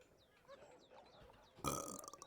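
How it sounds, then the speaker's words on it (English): A townsman burps in the Warsim video game, one loud, rasping belch arriving suddenly and dragging on to the end, after a stretch of faint chirpy background. "He burps at me."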